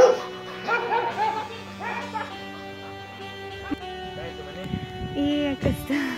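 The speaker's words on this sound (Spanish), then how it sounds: "Ahí está el perrito." A small dog in Cojutepeque, El Salvador, gives several short yips and whimpers, close by, in intermittent bursts mixed with people talking and other background sounds.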